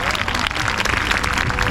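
Brief burst of dense audience applause at a yoga day celebration, loud and close, a continuous wash of many hands clapping with crowd murmur beneath.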